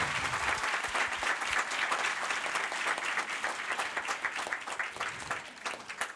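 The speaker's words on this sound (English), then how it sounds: "we're gonna ask everyone else to give them wild, wild applause while they come up on stage" Wild, sustained applause from a large audience at a Soapbox NYC event as speakers come up on stage, dense and continuous clapping heard at a moderate distance with no talking.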